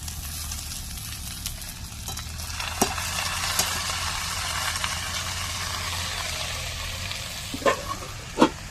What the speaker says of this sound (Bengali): এবার শাকগুলো দিয়েও এর সাথে একটু নাড়াচাড়া করে ভেজে নেব।